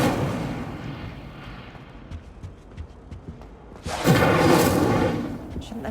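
An Incendio fire spell cast in the Hogwarts Legacy video game, with a low rumbling boom and a crackle building into a loud, roaring whoosh of flame over a busy background of game sounds.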